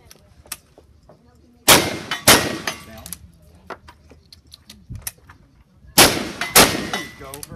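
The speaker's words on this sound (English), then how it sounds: "Shoot gun." Pistol shots at a shooting competition at Old Fort Parker: four sharp, loud reports in two quick pairs, each followed by a ringing metallic clang, with quieter clicks and handling sounds between.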